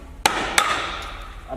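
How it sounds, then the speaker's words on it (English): Small hammer knocking out a cut section of webbed panel, two sharp close strikes a third of a second apart followed by a ringing decay. "I'm then just going to take a little hammer"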